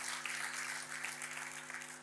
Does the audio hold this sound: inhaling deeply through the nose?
no